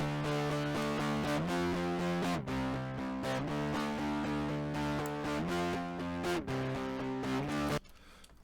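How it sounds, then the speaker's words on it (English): A heavily distorted electric guitar plays sustained, ringing chords that change every second or so, loud and continuous, then cuts off abruptly near the end. "For electric guitar, I'd like to remove a little bit of the pick sound from the distortion by turning"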